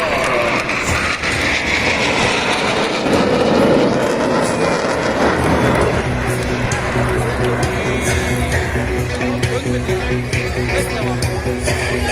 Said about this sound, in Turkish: üç uçak birlikte gökyüzünü şu delmeye başlıyorlar